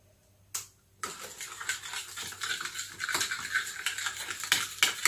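Spoon stirring a coleslaw sauce lightened with two tablespoons of fromage blanc, a steady run of close, soft scraping and tapping strokes against the bowl after a brief pause.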